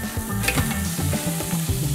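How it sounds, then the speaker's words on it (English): Pork shoulder searing in olive oil in a Dutch oven, a loud, close, crackling sizzle with some spattering pops that runs unbroken, no speech. "Then I'm gonna sear off my pork shoulder."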